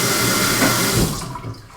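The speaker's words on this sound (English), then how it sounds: "if you want to leave the water running" Water streams from a kitchen faucet operated by a Tapmaster toe kick activator, a steady rushing splash into the sink that cuts off and fades away near the end.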